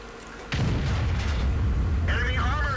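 A tank cannon fires in a video game about World of Tanks-style light tank combat, a loud booming blast that sustains a heavy rumble, with engine drone continuing underneath.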